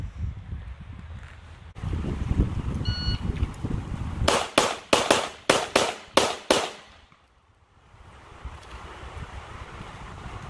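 Gunshots at shooting practice: a quick string of about seven sharp, loud reports in close succession, preceded by wind and handling rumble and followed by near quiet.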